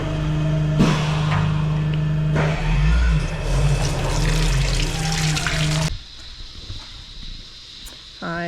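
Tap water runs into a kitchen sink as dishes are washed, a steady splashing stream with clatter that cuts off abruptly near the end, leaving quieter room sound behind.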